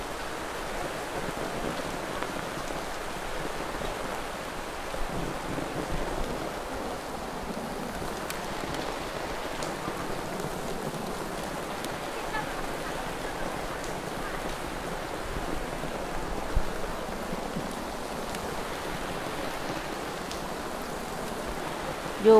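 Steady rain falling at a hillside Buddhist ordination ceremony in a valley, a continuous even hiss with no breaks, moderately loud and alone.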